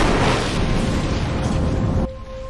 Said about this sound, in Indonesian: Ledakan kereta ini telah menyebabkan getaran hebat dan membuat longsor salju yang amat besar dan menggulingkan kereta ini.